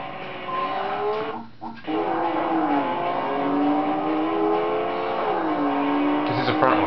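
A front-wheel-drive car's engine drones and revs in the racing video game Tokyo Extreme Racer 3, holding a steady high-speed whine with gear shifts and a brief dip, loud and continuous.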